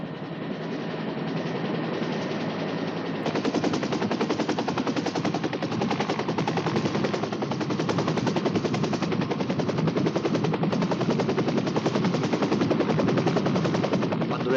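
Steady, heavy rotor chatter from a helicopter, continuous and loud throughout, growing slightly stronger after a few seconds as it lifts off from King Leopold Lagoon.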